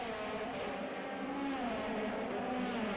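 Euroformula Open single-seater race cars accelerate through a corner at the Jerez circuit in Spain, a loud, steady engine roar with rising harmonic tones as the pack sweeps past at close range.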